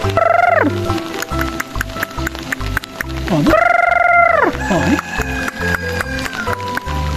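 Tame chickens at an eco community park, with loud, drawn-out squawking calls rising and falling in a few bursts amid background music and general animal-park commotion.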